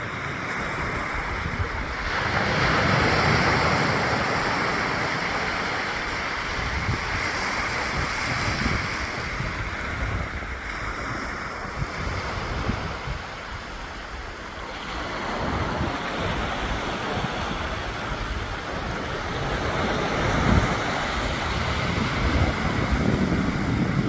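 Ocean waves break and wash continuously onto the sand at Boat Harbour Beach in Tasmania, a steady loud surf roar swelling and easing, with some wind buffeting the microphone and no voices.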